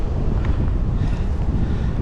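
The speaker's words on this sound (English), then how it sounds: "It's pretty cold, windy today." Strong, cold wind buffets the microphone in a constant low rumble and roar, with no other sounds standing out.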